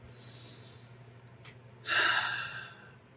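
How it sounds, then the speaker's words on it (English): One deep breath, drawn in quietly and then released as a louder, airy exhale that fades out, close to the microphone and with no talk. "Take a deep breath."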